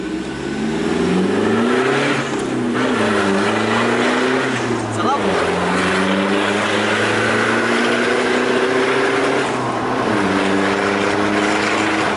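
A Toyota Innova engine revs hard and repeatedly bounces off its rev limiter with a popcorn-like crackle, the pitch surging and dropping in rough waves, loud and close.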